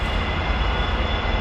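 A Voith Maxima 40 CC diesel locomotive with an Anglo-Belgian Corporation medium-speed engine runs in Train Simulator Classic, giving a steady, heavy low rumble with a constant engine drone and no talk over it.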